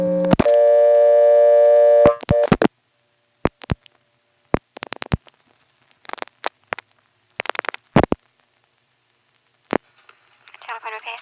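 A 1977 telephone call to 114 repair service, routed through step-by-step and NX1 switching equipment in Siler City, North Carolina: a steady tone cuts off into irregular clicks and relay clatter, then faint speech at the end.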